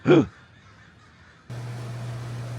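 A bird gives one loud, short caw close by at the Oregon coast where people are eating outdoors. A steady low hum of background noise follows after a brief quiet gap.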